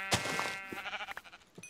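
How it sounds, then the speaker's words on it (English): A single short sheep bleat in a Minecraft-like video game, quiet and wavering, lasting under two seconds. "Gotta kill this sheep."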